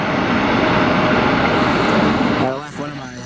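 An American Airlines Boeing 737-800 jet bound for Dallas passes at Cleveland's airport with a loud, broad roar that holds steady, then drops sharply in pitch and fades away as it goes by.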